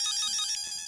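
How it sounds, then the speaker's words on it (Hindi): A phone ringtone plays loudly and steadily for about a second, a bright continuous electronic ring with no voices over it. "फोन आया।"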